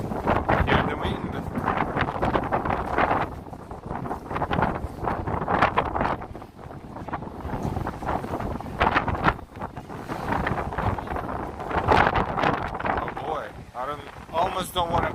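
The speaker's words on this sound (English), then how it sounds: "Almost don't want to go upstairs, it's so windy." Gusty wind near the High Line in New York City pounds the microphone in a loud, steady low rumble with repeated surges, and a voice speaks briefly under the roar.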